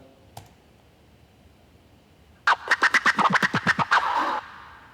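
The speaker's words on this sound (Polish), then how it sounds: "efekty typu na przykład e, jakiś scratch, który akurat tutaj użyłem" Scratch effect in a DJ set transition built in Ableton Live: a quick run of about ten rhythmic, rasping scratch strokes for roughly two seconds, loud and upfront, following a single faint click.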